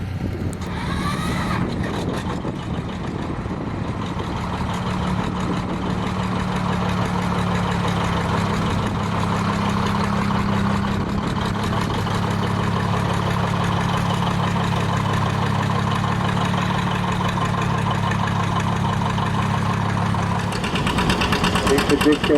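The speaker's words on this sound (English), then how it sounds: "has a John Deere. It's a twin-cylinder one, and this is about a 1960 tractor" A 1960 John Deere twin-cylinder tractor engine runs steadily and loudly throughout at a vintage tractor pull and machinery rally, its low throbbing drone holding from start to finish with background crowd noise.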